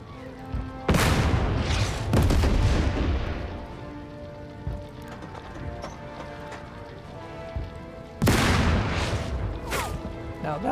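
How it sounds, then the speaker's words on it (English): AA guns fire at tanks in the Total Tank Generals strategy game, with loud booming shots around the first and second seconds, a quieter lull of scattered rumbles, then another heavy burst near the end. "So then let's try with the AA guns."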